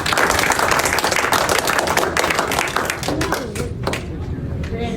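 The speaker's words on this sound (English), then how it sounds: "Clap it up." Audience applause at a fifth-grade boys' leadership program award ceremony at an intermediate school, with dense, steady clapping from a crowd of hands. The clapping fills the whole stretch and thins slightly toward the end.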